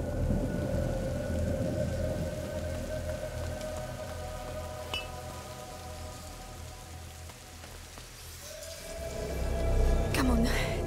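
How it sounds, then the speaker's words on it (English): Steady rain pours in the video game APT:I, a dense hiss with low thunder rumbling beneath and a louder thunder swell near the end. "Lucas, Hugo, stay out of the rain"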